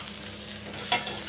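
Spices tempering in hot oil for a chutney sizzle steadily and close up, a constant frying hiss with a brief stir or clink near the end. No voices.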